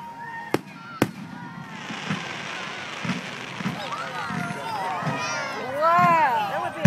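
Two sharp firework bangs go off early, followed by crackling pops and whistling streaks over a noisy crowd with people chattering nearby.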